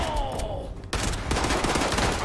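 Gunfire from an enemy in the video game Fallout 76 erupts suddenly as dense, loud bursts of rapid shots, following a quieter stretch of game ambience.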